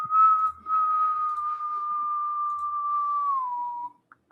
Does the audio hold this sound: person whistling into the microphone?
yes